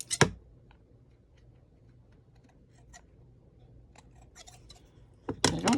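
Scissors snip through handmade paper in a quiet room, a few crisp cuts at the start and a cluster of louder snips at the end, with faint scattered clicks between.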